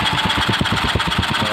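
A Honda GX150-200 small engine, burning oil, runs hard at high RPM. Its rapid, even firing pulses make a loud, steady, close mechanical roar throughout.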